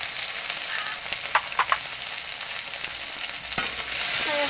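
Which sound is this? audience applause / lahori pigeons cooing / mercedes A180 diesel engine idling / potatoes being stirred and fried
potatoes being stirred and fried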